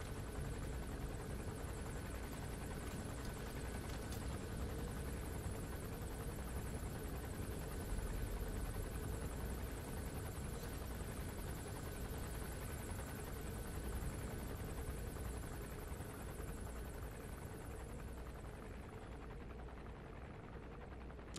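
Chopper in Metal Gear Solid V: The Phantom Pain, a continuous loud rotor and engine drone that holds steady throughout and fades slightly toward the end.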